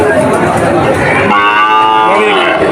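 A loud, close moo from a young cow comes through over crowd chatter and busy market noise at a cattle market.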